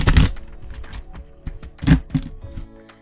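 An oracle card deck being shuffled by hand, giving a quick burst of papery riffling and slaps up front, then a few softer taps and shuffles, close and alone without talk.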